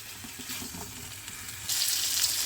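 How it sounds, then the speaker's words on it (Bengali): Brinjal stir-fried in oil on a full flame, with a short, steady sizzle and light stirring that grows louder and brighter near the end. "ফুল ফ্লেমে শুধু নেড়ে নেড়ে বেগুনটাকে আমি ভেজে"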